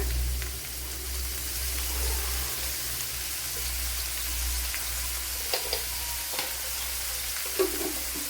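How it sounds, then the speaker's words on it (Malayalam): Cumin seeds sizzle steadily in hot oil in a pan as a green-leaf dish is prepared, a continuous close frying hiss with a few small crackles and spoon taps. "അതുപോലെ ജീരകം ഇട്ട് കൊടുക്കുക"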